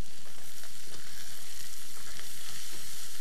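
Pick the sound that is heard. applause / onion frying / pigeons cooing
onion frying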